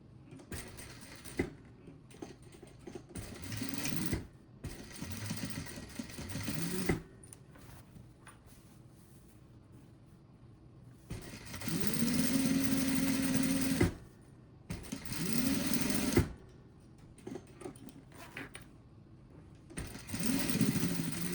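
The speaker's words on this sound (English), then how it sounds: "Now I will top stitch here." A sewing machine top stitching a makeup bag runs in several bursts of steady, even whirring, each lasting a few seconds and separated by quiet pauses.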